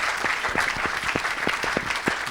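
A church congregation claps in a steady rhythm for Jesus, a full roomful of hands beating together in even, regular strokes, loud and continuous throughout.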